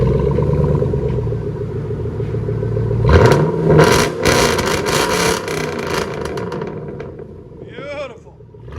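From inside the cab, a Chevy Avalanche 5.3L V8 with straight pipe exhaust rumbles at idle, then revs hard into a loud, raspy roar before settling back down.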